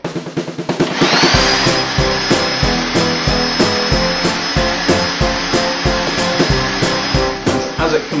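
A mincer fitted with a stuffing tube pushes minty lamb sausage meat into a casing, giving a steady motor whine under a rhythmic, pulsing grind that repeats evenly for several seconds, close and fairly loud.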